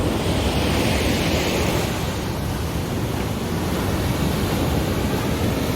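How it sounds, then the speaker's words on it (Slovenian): Big ocean waves crash on a beach in Porto, a loud, continuous roar of surf blended with heavy wind buffeting the microphone, steady and unbroken with no voices. "Ampak res je pizda, veliki so te valovi."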